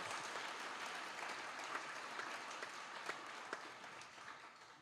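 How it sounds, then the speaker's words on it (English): High school Class Day audience gives a sustained round of applause, an even, distant-sounding patter of many hands at low volume with a few sharper individual claps. "let's give them a nice round of applause"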